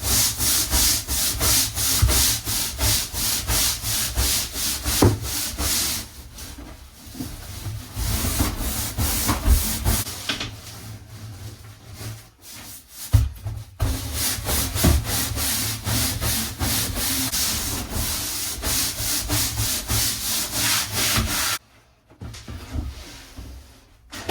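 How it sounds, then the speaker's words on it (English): A hard-bristle deck brush scrubs black grime off a boat hull in rhythmic, close, scraping strokes that run continuously with a few brief pauses. "I grabbed my deck brush, like my outdoor hard bristle deck brush, and see if I can get some of this black shit off the hull"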